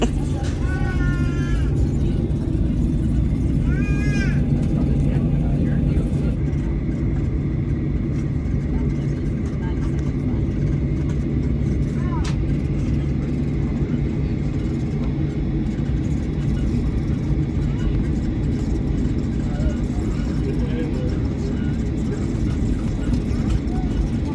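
Airplane cabin noise during a flight to Guatemala, a steady low roar and rumble filling the seat area without pause, with faint brief chimes or clinks early on.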